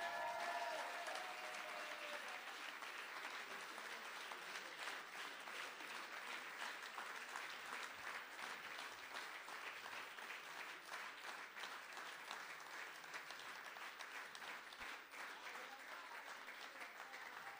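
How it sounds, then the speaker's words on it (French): An audience at a cooperative's general assembly gives sustained applause, a long, even stretch of many people clapping together at moderate distance, with faint voices mixed in. "un grand applaudissement pour Sophie Baudaroué,"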